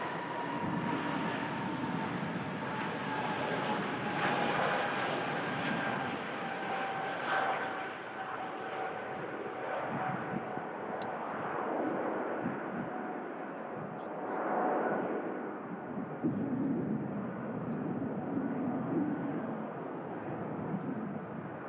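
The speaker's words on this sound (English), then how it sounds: "There's the ATR from the Isle of Man in the background, taxis in." Jet and turboprop airliners, among them an ATR turboprop, taxi at Manchester Airport, giving a steady, moderately distant engine hum and whine that slowly rises and falls without break.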